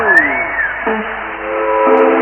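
A trumpet imitates a train whistle with loud sustained tones that slide and shift in pitch, muffled as if from an old broadcast recording.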